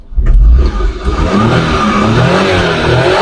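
A Suzuki kei truck's K6A 660cc engine, DA63 model, revs up loudly and close, surges briefly, then settles into a steady, buzzy mid-pitched idle-to-rev drone with no talking.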